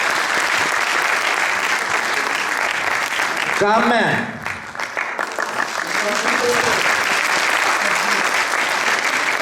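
An audience claps loudly and continuously for a Punjabi Heer Waris Shah stage drama, a dense wash of applause with a voice speaking through it briefly midway.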